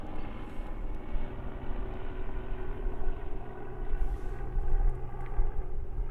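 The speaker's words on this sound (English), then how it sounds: "Hello, helicopter." A helicopter flies overhead above an outdoor park, a steady, moderately loud rotor and engine drone that holds throughout without talk.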